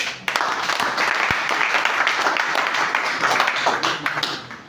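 An audience claps for a father at a talk about a drug rehabilitation centre, producing a sustained burst of dense, crisp applause with a few louder individual claps standing out near the microphone.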